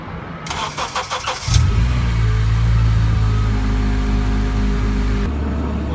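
An Acura TSX engine cranks briefly, catches and settles into a steady, loud idle close by, with no talking.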